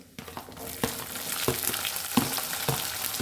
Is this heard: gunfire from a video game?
no